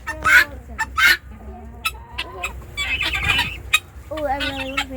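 Chickens clucking and squawking close by as they are fed, mixed with people talking over them.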